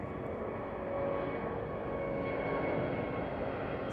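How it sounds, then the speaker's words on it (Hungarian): A Singapore Airlines jet flying low and close overhead in Australia gives a steady, broad engine roar that swells slightly and holds for the full few seconds, with no voices. "Közben ezt figyeljétek, a repülő milyen közel van."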